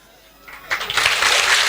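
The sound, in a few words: congregation applauding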